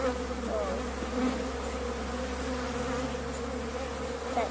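Bees swarm around a backyard beehive with a steady, continuous buzzing drone of many insects held close to the ear, with no talking over it.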